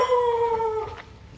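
Wild dogs on Koh Kood, Thailand, at the entrance to a jungle waterfall give a single drawn-out howl, close and fairly loud, that slides slowly downward in pitch before fading out.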